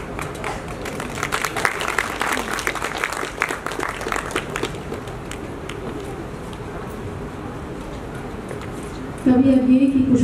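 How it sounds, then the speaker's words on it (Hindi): An audience applauds at an inaugural lecture session, with dense clapping for about five seconds that then thins out and fades under the room's background noise. "तालियों से इस पल को नवाजिए।"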